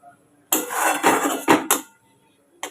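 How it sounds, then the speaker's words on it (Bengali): A pan clatters as spice paste is sautéed with fried onions for a pointed gourd curry, with several short bursts of metal scraping and clanking close by and no talk. "এবার একটু কষিয়ে নিই"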